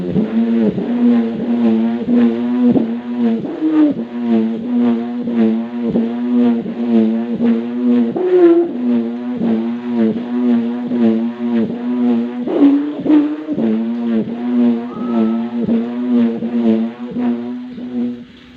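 A vehicle engine revs repeatedly through aftermarket exhaust pipes that are being compared, giving a loud, close, droning pulse of steady rhythmic throttle blips with no talking.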